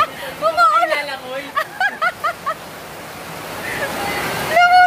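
Sudden heavy rain pours down on a beach cottage during an outing, a steady broad roar that swells and holds beneath excited voices and shouts.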